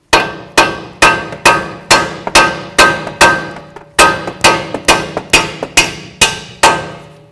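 A hammer strikes the strut bolts out of a steering knuckle on a 2008-12 Chevy Malibu. About sixteen loud, ringing metallic blows land in a steady rhythm, each decaying quickly, with a short pause midway.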